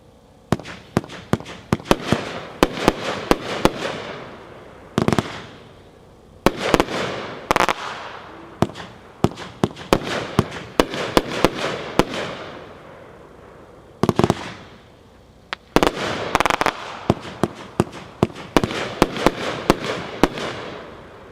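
A Pyroland 'Forged' 30-shot firework cake fires in a rapid string of sharp bursts and crackling pops, with short pauses between volleys and a dense finale of overlapping reports, close and loud.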